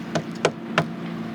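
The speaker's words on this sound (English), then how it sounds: "knocking on wood" Three sharp knocks on wood, close and evenly spaced, over a steady low engine-like hum.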